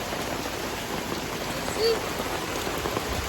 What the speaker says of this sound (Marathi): डेंजर पाऊस आलेला आहे.